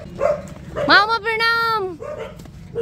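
Two dogs greeting arrivals at a relative's home during a Bhai Dooj family visit: a single long, rising then falling howl-like bark that stands out loud and close, with a background murmur of voices before and after.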